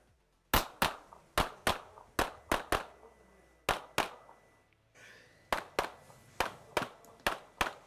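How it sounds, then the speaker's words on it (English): A competitor fires a handgun on a stage at the European Handgun Championships. About fifteen sharp shots ring out in quick bursts, with a short pause partway through. The shots are fairly distant. "this is Patrick shooting, Patrick Halbaga."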